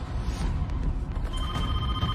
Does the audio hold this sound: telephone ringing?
yes